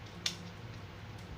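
A single crisp snip of scissors cutting paper for confetti, one short sharp cut near the start followed by a quiet low background hum.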